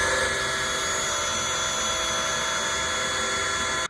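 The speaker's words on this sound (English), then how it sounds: "let me drill this out," A power drill bores a hole through the door of a 1995 Chevrolet Caprice SS, making a loud, steady, continuous whine that holds for several seconds and cuts off abruptly at the end.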